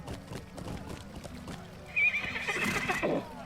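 A horse in the video game Lord of the Rings Online clip-clops at a steady walking rhythm, then lets out a loud, bright whinny partway through, with hoofbeats continuing close by and no talking.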